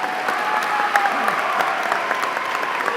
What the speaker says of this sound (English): Let's have another round of applause for these guys.